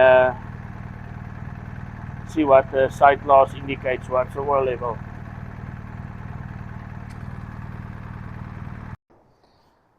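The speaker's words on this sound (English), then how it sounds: "we're going to run the bike for a couple of seconds, switch it off" A BMW R1250 GSA motorcycle engine runs steadily at idle for about nine seconds, then cuts off abruptly; someone talks briefly over the engine noise partway through.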